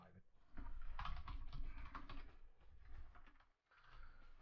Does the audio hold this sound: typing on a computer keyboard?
yes